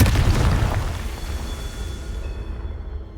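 A deep, rumbling blast from the Confringo spell in a Harry Potter video game, loud at first and then fading into a long low tail, with no voices over it.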